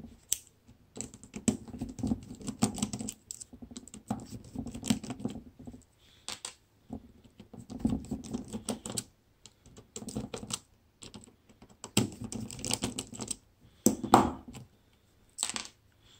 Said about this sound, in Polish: Odkręcamy je wszystkie Torxem, a Torx nazywa się T6H.